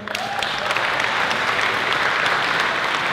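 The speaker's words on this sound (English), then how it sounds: "let's keep that round of applause going" Audience applause after a stage performance of a song from Aladdin, a dense, steady wash of many hands clapping at close range throughout, with no speech over it.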